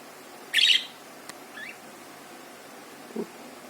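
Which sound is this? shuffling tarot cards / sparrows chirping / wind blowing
sparrows chirping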